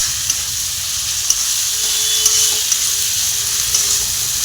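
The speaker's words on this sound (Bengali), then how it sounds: "একদম দেখো কম তেলে চিকেন কষাতে হবে" Chicken sautéing in a small amount of oil, a loud, continuous hissing sizzle close up with a few faint stirring taps spread through it.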